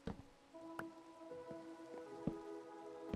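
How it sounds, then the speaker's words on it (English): Rain falling in the video game Minecraft, a quiet patter of drops with scattered sharper ticks over a faint tonal background, soft and steady. "More rain?"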